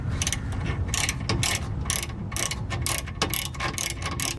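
A ratchet removes the 14mm caliper bracket bolts on the rear brakes of a 2007-2011 Toyota Camry, clicking in quick, rhythmic bursts close up, with no talking.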